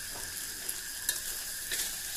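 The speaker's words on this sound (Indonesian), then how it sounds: "Jangan lupa diaduk sampai merata." Kwetiau noodles stir-fried in a pan with tomato and celery, a steady close sizzle with faint scraping clinks of the utensil as the mix is stirred.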